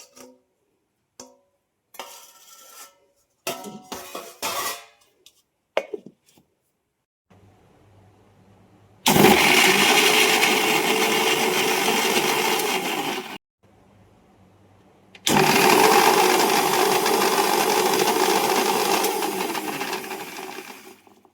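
Green chillies, ginger, garlic cloves and coriander are ground into a fine paste in an electric mixer in a Konkan kitchen. Scattered clinks and knocks come first, then two long, loud whirring runs separated by a short pause.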